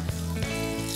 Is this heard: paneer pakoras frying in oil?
yes